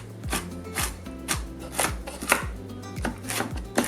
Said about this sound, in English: I did go ahead and chop up my walnuts